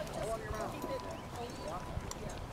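Horse hooves clip-clop on the ground during a mounted combat class, a quick uneven patter at close range mixed with faint rider and coach voices.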